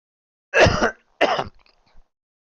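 Two harsh, throaty coughs in quick succession from one nearby person, each a short burst, followed by faint breathy traces and then quiet.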